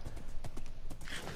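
Rapid clip-clop of a horse's hooves in Minecraft, close and fairly loud, a quick run of hoofbeats lasting the whole short moment without speech.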